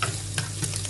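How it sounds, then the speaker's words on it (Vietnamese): Shrimp satay chili sauce stir-fried with garlic in a pan for Huế-style beef noodle soup, giving a steady close sizzle with a few brief stirring scrapes over a low background hum. "Rồi bây giờ mình đi xào sa tế"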